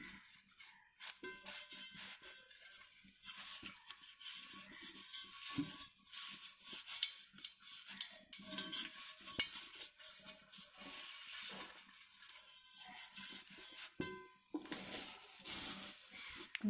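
Oil being brushed around the inside of a cake tin while making a semolina snack without an oven: soft, irregular scratchy strokes, quiet and close, with no talking.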